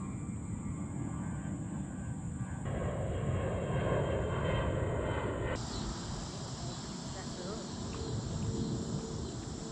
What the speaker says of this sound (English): Oh, here comes a plane.